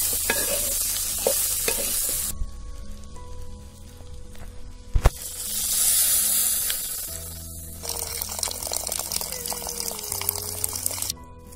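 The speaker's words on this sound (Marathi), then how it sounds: "असं तेलात चांगलं मिक्स करून घ्यायचं." Vegetables sizzle in hot oil in a pan while a spoon stirs and scrapes through them, with a sharp knock partway through and a louder hiss swelling in the middle, all close up and without speech.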